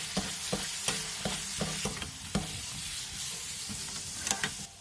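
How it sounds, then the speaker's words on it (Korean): Chili peppers, onion and green onion are stir-fried in a pan of reduced soy-braised pork belly, with a soft steady sizzle broken by repeated sharp clacks of a utensil scraping and tossing the ingredients. "청양고추와 양파, 대파를 넣고 가볍게 볶아주세요"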